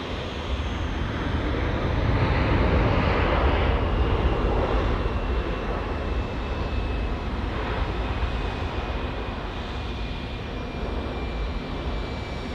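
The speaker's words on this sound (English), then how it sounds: "Boeing 787-9 Dreamliner about to land here from Melbourne" A Boeing 787-9 Dreamliner arriving from Melbourne lands on runway 23 at Auckland Airport, its broad jet roar sustained and steady at a moderate distance, swelling slightly early on before holding level, with no talk over it.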